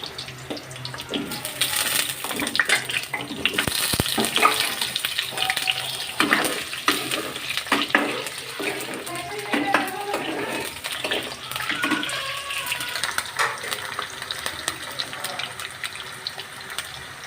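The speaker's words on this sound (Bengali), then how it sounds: "আলু দিয়ে দিলাম কড়াইতে।" Potatoes hitting hot white oil in a wok for mutton kosha set off a continuous loud watery sizzle and crackle, with scattered sharper pops and clatters throughout.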